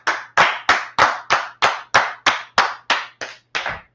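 Applause from an audience at an ISUPK headquarters Monday night history class: about eleven sharp, evenly spaced claps in a steady rhythm, loud and close, with no talking.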